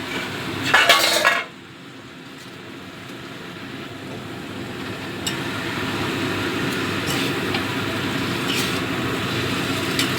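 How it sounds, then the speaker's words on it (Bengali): Fish pieces are stirred into curry in a pan with a metal spatula, a clattering scrape at the start and then a steady low sizzle that runs on underneath with occasional faint clinks. "মাছগুলো দিয়েও মিশিয়ে নিচ্ছি।"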